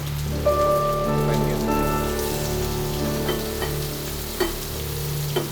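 Paneer drops into hot coconut oil and fries with a steady, dense sizzle and crackle, close and fairly loud, with a few sharper pops and spatters rising out of the constant hiss.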